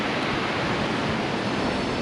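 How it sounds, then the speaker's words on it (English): Ocean waves on the Atlantic City beach by the boardwalk, a steady broad wash of surf roaring continuously without pause, moderately loud with no voices over it. "Check out those waves."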